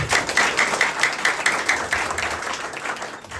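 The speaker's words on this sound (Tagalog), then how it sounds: "Mali na yung palakpak nyo" Audience clapping in rhythmic, evenly spaced beats, roughly four per second, a crowd of hands striking in unison that gradually softens toward the end.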